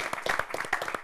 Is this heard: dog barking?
no